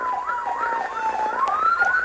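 A wailing police siren cycles rapidly up and down, loud and steady, with an emergency vehicle's yelp sweeping over a faint traffic rumble.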